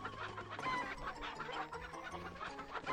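Chickens clucking in the PlayStation game Breath of Fire IV, several quick bursts of clucks and squawks in a busy close run, fairly quiet overall.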